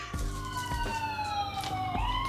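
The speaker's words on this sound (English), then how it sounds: "The sirens had to go by" A police siren wails steadily, its tone gliding and sweeping as the vehicle passes, heard fairly faint and from a distance with low background rumble and no talking.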